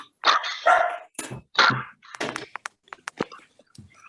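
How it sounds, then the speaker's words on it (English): Dogs bark repeatedly in a quick, uneven series of loud, close yaps, with a few shorter yips trailing off toward the end. "Dogs are barking."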